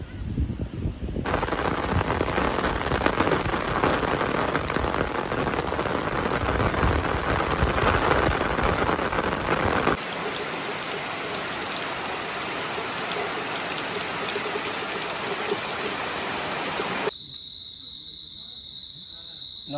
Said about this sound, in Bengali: আর ওইদিকে দূরে এখন প্রচুর জোরে বৃষ্টি আইছে।